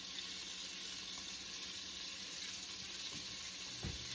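Beef sears in vegetable oil in a pan with a steady, fairly quiet sizzle and a couple of soft clinks near the end, with no voices.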